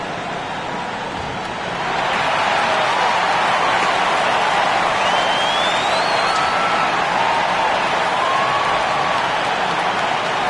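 Crowd applause and cheering in the NBA 2K25 basketball game, a Brooklyn Nets arena crowd at center court, swelling in after a quiet start into a steady, loud wash of clapping that continues throughout.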